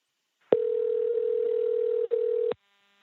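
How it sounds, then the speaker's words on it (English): Steady telephone tone on a phone call, one continuous hum of about two seconds with a brief click-break near the end, clean and moderately quiet, with no talk over it. "I'm going to hang up and call back."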